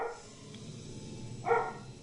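A dog barks outdoors, one brief distant bark early and a louder burst near the end, faint against a steady low background.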